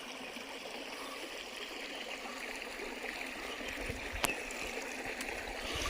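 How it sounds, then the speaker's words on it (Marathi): Water flows steadily in a shallow stream during traditional summer fishing with nets in Konkan, a continuous close rushing and trickling with a brief splash near the end. "ह्याच्यात तर एवढं पाणी वाहत आहे बघा"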